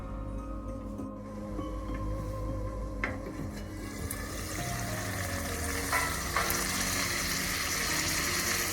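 Stuffed okra (bharela bhinda) cooking in oil in a covered pan, giving a steady, fairly quiet sizzle and bubble throughout with a few faint clinks of the lid or pan and no talking.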